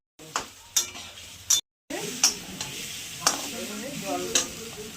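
Spices with salt and turmeric, tempered with black cumin, sauté in a pan for a vegetarian dhoka curry. A steady sizzle runs beneath repeated scraping stirs and sharp utensil clinks, broken by one brief silence.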